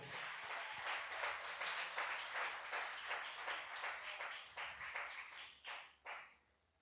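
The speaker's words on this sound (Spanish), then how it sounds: "Den un fuerte aplauso al Rey." Faint applause from a church congregation, a dense wash of many hands clapping that thins near the end into a few separate claps.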